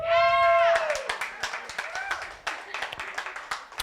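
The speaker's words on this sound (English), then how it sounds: "Rednecks, clap for me." Comedy club audience clapping in scattered, uneven bursts after a redneck-themed call-out, with a voice shouting over the start before the claps thin out into sparse individual hand claps.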